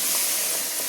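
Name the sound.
onion-tomato masala water poured onto sizzling fried chicken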